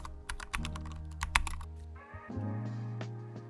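Rapid clicky keystrokes on a computer keyboard as a new title is typed, close and crisp with uneven bursts over a quiet background hum.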